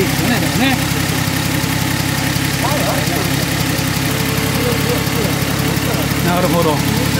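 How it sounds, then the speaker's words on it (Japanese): Steady, even idle of a 1980 Nissan Skyline KGC210 with a turbocharged SOHC engine, a mild low rumble running throughout while people talk nearby. "まあターボって言ってもね、独特、まあそんなに凶暴なアイドリングではないですね。"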